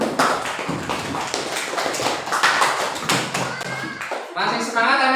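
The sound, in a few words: children clapping hands for a group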